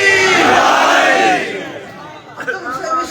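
A large religious gathering roars back in unison to the Naara-e-Haidari slogan, a loud, dense crowd shout that swells for over a second and then fades into scattered voices and a few brief renewed cries.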